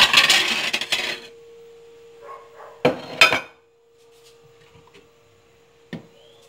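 Small plates clink and clatter as one is lifted from a stack of dishes: a rattling burst, then two sharp knocks, then a lone later clink, all over a steady low hum.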